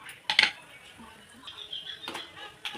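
Peanuts tip into hot oil in a pan to temper lemon rice: a brief, sharp clatter of nuts hitting metal, then a few faint scattered clicks and rattles at close range.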